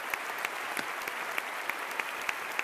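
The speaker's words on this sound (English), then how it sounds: "So I just took some video of the final applause with Lowell on stage as a part of the mass choir." Steady audience applause fills a large concert hall at Carnegie Hall after a mass choir performance, a dense wash of many hands with sharper nearby claps standing out at an even pace and no talking.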